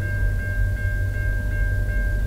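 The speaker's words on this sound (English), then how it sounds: "we got VIA 75 approaching the London station" VIA Rail passenger train 75, led by engine 6438 with seven coaches, approaching the London, Ontario station on the Dundas Subdivision, a steady loud rumble with a sustained high ringing tone throughout, no voices.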